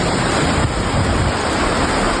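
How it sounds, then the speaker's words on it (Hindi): Heavy monsoon rain in Nainital, Uttarakhand, with floodwater surging along the streets, as a steady, dense broadband roar that stays close and loud throughout, with no voices. "यहां भारी बारिश की वजह से सड़कों पर पानी का बहाव इतना तेज है कि इंसान को बहा ले जा सकता है।"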